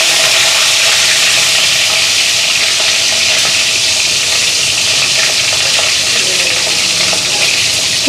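An egg fries in an iron wok over a lowered gas flame, giving a loud, dense, continuous sizzle and hiss that stays steady throughout, heard up close with no voices.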